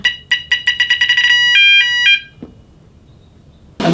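A small alarm bell rung by a swinging pendulum sensor touching a ring: a run of rapid, loud metallic rings, then a few longer sustained rings, followed by quiet and a brief knock.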